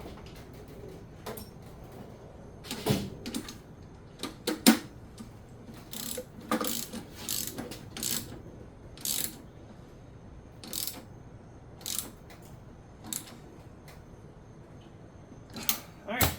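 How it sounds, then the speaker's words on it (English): A hand ratchet clicks in short bursts while winding down a part during a 6.4 HEMI engine rebuild, sharp close ratcheting strokes separated by pauses, with faint low speech between them. "And we'll need a ratchet for that."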